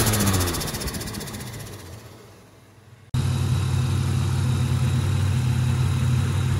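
A turbocharged Ecotec car engine idles steadily after repair work, a dense, loud running drone that restarts abruptly partway through following a fading, quieter stretch, with no talking.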